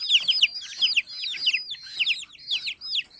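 Chickens, a flock of backyard fowl, make busy, noisy clucking and squawking calls, a dense run of rapid overlapping cries close by with no talk.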